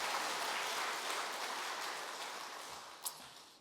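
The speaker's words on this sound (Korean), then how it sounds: "한 번 더 박수해 주세요" A church congregation applauds together in a steady wash of clapping that slowly fades over a few seconds, ending with one sharper clap near the close.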